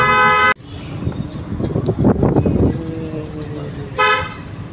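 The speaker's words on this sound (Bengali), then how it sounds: "হালকা হর্ন বাজাও" Two car horn honks ring out from a car driven on a road during a driving lesson: a loud blast at the start and a shorter one near the end, with engine and road rumble between them.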